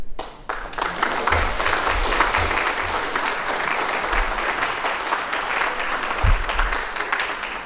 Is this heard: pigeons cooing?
no